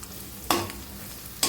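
Onions and cauliflower frying in a pan with salt and turmeric, a steady sizzle broken by two sharp scraping stirs of a spatula, close and moderately loud with no talking.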